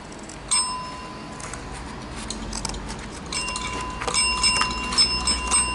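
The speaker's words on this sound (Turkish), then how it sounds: "Zili bayağı beğendi" A small bell rings close by in a few bright, clear dings that hang for a moment, then a fuller run of rings follows amid light handling clatter.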